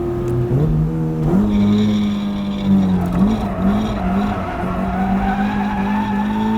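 A K-swapped Mazda Miata at Toronto Motorsports Park skids off the track, its tires squealing loudly over a strained, rising engine note that holds steady for several seconds, with no talking.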